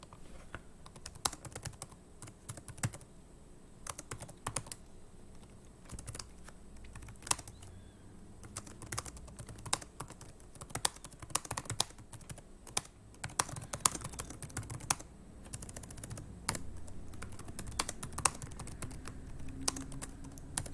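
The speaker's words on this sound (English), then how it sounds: "I'm just messaging Ruth." Quiet, irregular clicking of a computer keyboard as someone types a chat message during an online class, with bursts of keystrokes and short pauses over about twenty seconds.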